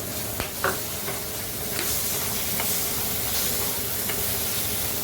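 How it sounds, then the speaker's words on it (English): Butter and oregano being stirred in a hot pan, with a steady close sizzle and hiss and a few light scrapes and taps of the spoon against the pan, no talking. "now we're gonna mix our butter"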